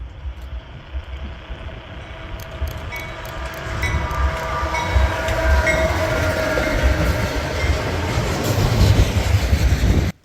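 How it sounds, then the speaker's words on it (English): CSX freight train M267 rolls west behind a single EC44 locomotive, a close, loud, continuous rumble with rail clatter that swells steadily as the cars pass. "it was now time for Ethan to leave, and the last train of New York we saw together was CSX M267 rolling west with a solo YN2 EC44 leading."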